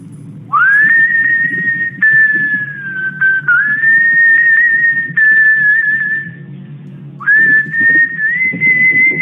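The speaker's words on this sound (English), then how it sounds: "Hey, can you whistle? Sure. Whistle. Oh, yeah. I know just the tune." A man whistles a tune on a vintage radio comedy show, clear and close, with long sustained notes and pitch slides broken by a few short pauses, over a faint murmur of background sound.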